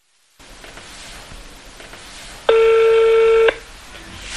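A telephone keypad tone sounds once, a loud steady electronic beep lasting about a second, set against a quiet indoor room hush.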